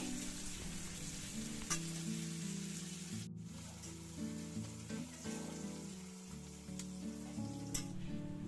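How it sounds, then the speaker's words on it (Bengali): Chopped onion with a little sugar fries in a pan for mushroom bhuna, making a quiet, continuous crackling sizzle with small pops, under steady background music. "পেঁয়াজটা দেখুন খুব ভালোভাবে কিন্তু লালচে লালচে করে ভাজা হয়ে গেছে"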